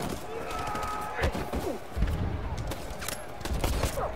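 Gunfire in Detroit: Become Human during the battle for Detroit, with sharp shots and thumping impacts popping at irregular intervals over a constant background rumble of combat.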